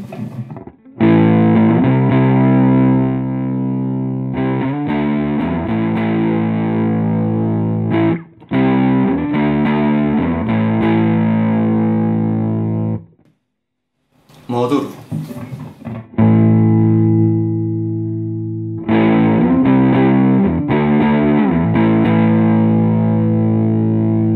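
An electric guitar plays through an Ibanez TS9DX Turbo Tube Screamer set to hot mode, giving thick, saturated overdriven chords and sustained notes, loud and close, with a few short breaks and one near-silent gap.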